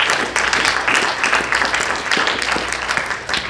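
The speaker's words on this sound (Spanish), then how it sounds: "Vamos a dar un fuerte aplauso al Señor" A church congregation applauds, with a broad, busy clatter of many hands sustained throughout at fairly loud level, and faint voices mixed beneath.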